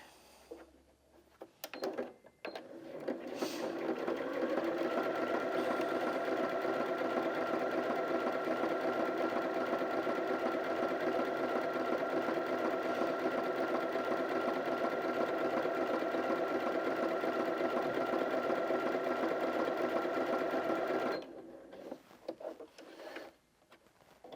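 A Janome Sewist 740DC sewing machine stitches a triple straight stitch through stretch fabric, running steadily and loudly for about eighteen seconds after a brief start-up, then stopping.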